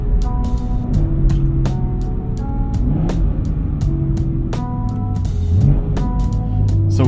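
A BMW M240i xDrive (F22) engine is heard under steady load, with a string of quick throttle blips and rev rises during downshifts. The engine hum is loud and continuous throughout.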